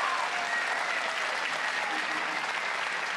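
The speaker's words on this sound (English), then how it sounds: "So an applause for Alliance" Audience applause for the esports team Alliance after their League of Legends win over Dignitas, a dense, steady wash of many hands clapping throughout, moderately distant with a faint crowd murmur.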